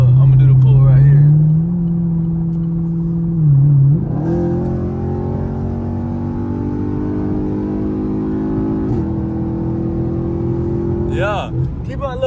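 A Chevrolet Camaro SS engine pulls hard, its strained tone climbing steadily through the gears, loud and close. A second vehicle joins partway through, and voices talk over the engines.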